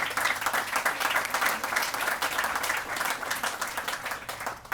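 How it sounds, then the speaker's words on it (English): An audience at a college building ribbon-cutting ceremony claps steadily throughout, a dense, continuous round of applause with no talking over it. "Yeah, we can clap for that."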